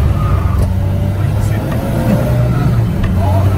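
Peugeot 206 S16 with a stock silencer and intermediate exhaust pipe, a loud steady low engine and exhaust drone heard from inside the car while driving in the rain, with a person talking over it.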